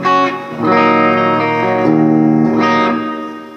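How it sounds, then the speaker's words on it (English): An electric guitar rings out through a TC Electronic Hall of Fame Mini set to its plate reverb preset, with a short plucked note followed by a sustained chord that swells and decays in a smooth, shimmering wash. "I ended up putting the preset plate on it again."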